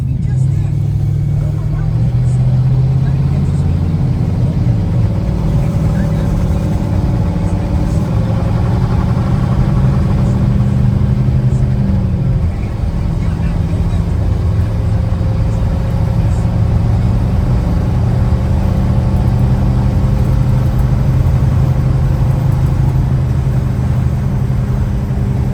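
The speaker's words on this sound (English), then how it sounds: "Good running truck." The V8 engine of a 1978 Dodge Lil Red Express pickup, a 360 with an automatic transmission, drones steadily while driving, with a low continuous rumble and a slight pitch change partway through, close and loud throughout.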